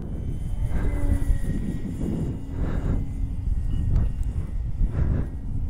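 An RC plane flies aerobatics overhead, its engine a droning, shifting hum that rises and falls beneath low, rumbling wind and outdoor noise.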